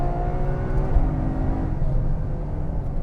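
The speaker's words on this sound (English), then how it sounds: "it does want to light the rear end up pretty much immediately if you get funky with the throttle." A 789bhp Ferrari 812 Superfast engine revs hard under acceleration, a loud, steady, close roar holding for about three seconds with no talking over it.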